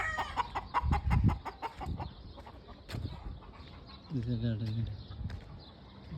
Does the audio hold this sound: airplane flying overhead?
no